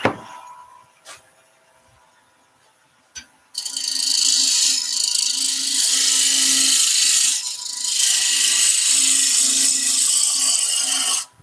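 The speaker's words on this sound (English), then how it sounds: "So I'm going to start just by tickling with the roughing gouge first." A roughing gouge makes light cuts on a wood lathe while a cabriole leg is turned, giving a steady, loud scraping rush with a few brief knocks beforehand and a short dip partway through.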